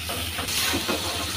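Chopped, seeded tomatoes hit hot spices in a pan with a loud, continuous hiss and sizzle that jumps in intensity partway through, close by and with no talking.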